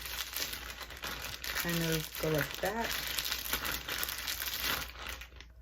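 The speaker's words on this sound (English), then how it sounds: "put it in the middle of my plastic bag" Plastic bag being crinkled and squeezed with thick hair pomade inside, a soft continuous rustle running throughout, with a person speaking briefly over it.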